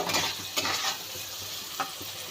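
Fish oil curry (macher teler chorchori) sizzles and fries loudly in a pan as it is stirred, with scraping strokes at the start and a couple of sharper scrapes later over continuous close frying noise.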